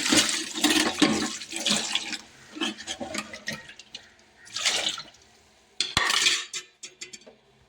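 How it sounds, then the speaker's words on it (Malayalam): Running water splashes in bursts while dishes and utensils clink and scrape, with quiet pauses between rinses. "ഇച്ചിരി പാത്രം കഴുകാനുണ്ട്"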